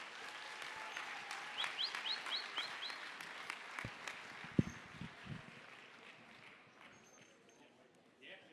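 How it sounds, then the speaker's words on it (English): Scattered applause and claps from a small audience, rising and falling, with a few sharp thumps and background murmur, fading toward the end. "how about another round of applause?"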